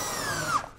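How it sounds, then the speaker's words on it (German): A power drill drives a screw through a perforated metal strap being fixed to a wall substructure, a steady whining motor with rising pitch that cuts off abruptly, heard close and alone. "Ich nehme hier einfach ein Lochband, das schraube ich unten an"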